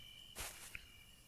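Crickets in Magdalena give a faint, steady high trill in a quiet outdoor night scene, with a soft rustle and a small click partway through.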